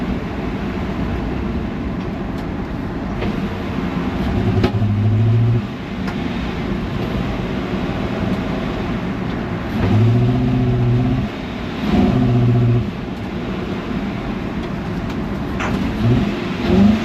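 A 1969 Jeep Wagoneer engine running again after sitting for 40 years, idling rough and steady in neutral, then revved loudly three times in separate swells, heard close with no talking.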